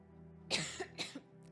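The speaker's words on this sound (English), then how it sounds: "These allergies or cough or whatever it is really getting to my chest today" Two or three close, sharp coughs come from a man with a chesty cough, separated by brief pauses over a quiet background hum.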